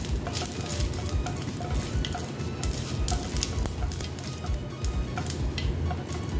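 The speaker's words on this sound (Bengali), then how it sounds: "তার সাথে দিলাম দেখো গোটা জিরে। দিয়ে এটা ফোড়নটা হতে দিচ্ছি।" Whole cumin seeds sizzling in hot oil as a tempering, a dense continuous crackle and spit close up, steady throughout with no talk.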